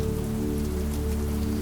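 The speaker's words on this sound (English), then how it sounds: "The rain has eased into a softer rhythm now, a quiet, steady whisper" Soft, steady rain patters on a window, a dense continuous hiss with a low hum beneath, alone with no voices.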